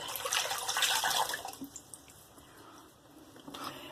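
Water splashing as a face is rinsed at a sink after a wet shave, a burst of close splashing and dripping that fades into quieter trickles and drips.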